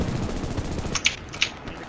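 Distant machine gun fire in the World War II shooter Hell Let Loose, a dense rattle of rapid shots under steady battlefield ambience, with two sharper nearby cracks standing out toward the end.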